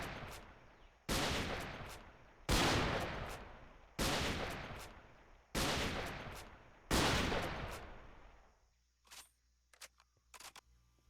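Rifle shots in a modded Minecraft world (Manufactio 2 modpack), five loud single reports at evenly spaced intervals of about a second and a half, each with a decaying tail, followed by a few faint clicks.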